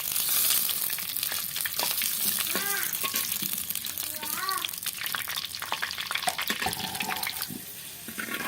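Potatoes fry in hot oil in a clay pot, a steady bright sizzle running throughout with a few watery bubbling chirps and soft stirring scrapes, close and moderately loud with no talk.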